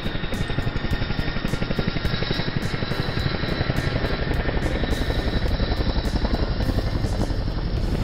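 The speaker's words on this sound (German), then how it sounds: "Der Hubschrauber landet gleich." A cartoon helicopter flies with a rapid, even rotor chop pulsing steadily throughout, loud and close, with a constant engine whine underneath and no voices.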